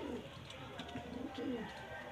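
Soft, low cooing from white pigeons kept in a home loft, a steady murmuring coo running throughout at close range with no talk over it.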